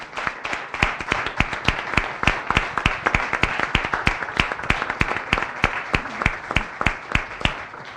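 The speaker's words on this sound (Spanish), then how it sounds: "Pido un aplauso para nuestros tres invitados de gusto." An audience at an evening talk on charity toward migrants applauds its three guest panelists with sustained clapping that settles into a steady, rhythmic beat, loud and close throughout.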